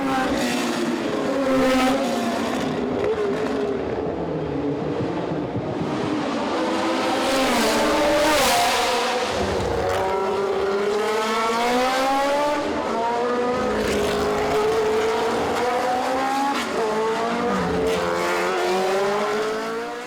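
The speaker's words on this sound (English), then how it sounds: "I had my pleasure to drive an icon car of Graham Hill in Monaco, the Embassy Street car" A 1974 Lola T370 Formula One car, Graham Hill's Embassy car, races through the Monaco Historic street circuit, its engine loud and close, rising and falling in repeated revving sweeps through the gears with brief lifts.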